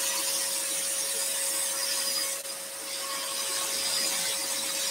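Scroll saw blade cutting through wood for a compound-cut candle, a steady, continuous rasping whine holding level and close throughout, with one brief dip midway.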